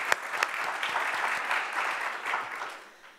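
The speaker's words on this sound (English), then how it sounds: "So if we can just give a round of applause to them." Lecture audience at an entrepreneur speaker series applauding: dense, steady clapping from a full room, fairly close and loud, fading gradually toward the end.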